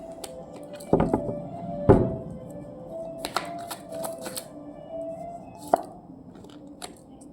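Tarot deck being shuffled by hand, a few sharp slaps and riffles standing out against quieter card rustling and soft handling noise, fairly close and moderately quiet.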